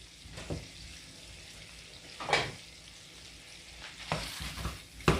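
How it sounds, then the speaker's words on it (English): Crumbled sausage fries in a pan for sausage gravy, giving a steady close sizzle broken by several sharp spatula scrapes and stirring clatters, the loudest near the end. "I am cooking up sausage for sausage gravy."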